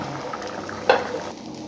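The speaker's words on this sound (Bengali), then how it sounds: "তরকারিটা ফুটে উঠেছে" Eggplant and parshe fish curry bubbling in a pot, a soft steady simmer with a brief louder stir or splash near the middle, fairly quiet and close.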